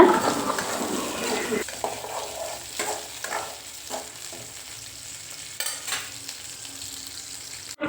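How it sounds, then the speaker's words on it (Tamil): Shallots and garlic sauté in a pan with a loud, steady sizzle, punctuated by occasional spoon scrapes and stirring knocks at close range. "இதையும் நல்லா வந்து வதக்கி விட்டுடலாங்க ஒரு ரெண்டு நிமிஷத்துக்கு நல்லா வந்து வதக்கி விட்டுருங்க"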